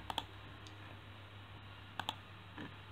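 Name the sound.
pressing the Enter key on a computer keyboard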